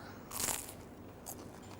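Two crisp crunching bites into a fried boondi, paneer and peanut samosa, the first sharper and louder, the second softer about a second later, both close but quiet.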